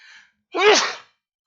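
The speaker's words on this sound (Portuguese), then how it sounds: "Vou espirrar, peraí." A short breathy intake followed by a single loud, close sneeze burst, then silence.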